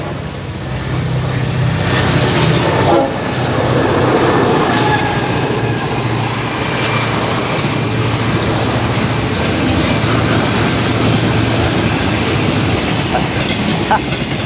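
A slow freight train on a National Rail line rolls past close by in a long, steady roar of rumbling wheels and rattling wagons, with faint squeals and clatter throughout.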